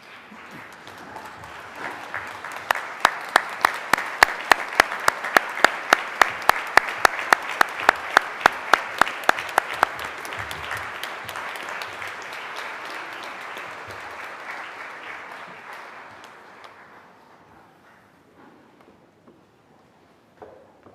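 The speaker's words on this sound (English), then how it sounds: "please give a round of applause to our family and friends who have helped us get here today" Audience applause at a graduation ceremony for family and friends, a dense sustained wash of clapping with sharp individual claps standing out, swelling through the middle and then fading to quiet near the end.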